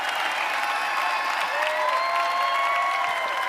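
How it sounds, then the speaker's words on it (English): An audience claps in sustained, even applause that fills the room, a dense continuous patter with a hint of cheering and no break in its level. "You all are giving me an amazing round of applause."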